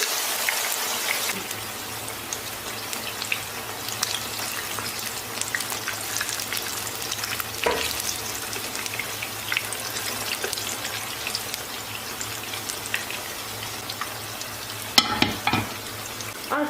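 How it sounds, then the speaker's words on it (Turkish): Steady, dense sizzling of eggplant frying in hot oil, close and continuous, with occasional clatters and louder pops. "Şimdi patlıcanlarımı atıp kızartacağım."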